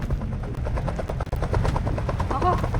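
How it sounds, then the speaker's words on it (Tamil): A helicopter approaches in the Roblox game Rainbow Friends, its rotor making a steady, rapid thudding chop that holds loud throughout, with a voice talking over it. "ஆஹா ஹெலிகாப்டர் வருது"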